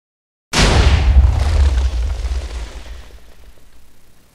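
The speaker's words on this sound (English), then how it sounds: "I'm going to put the projectiles in and fire it for you guys again." A long range cannon in Minecraft fires after a brief silence, one loud booming blast that rolls and rumbles, then slowly fades away.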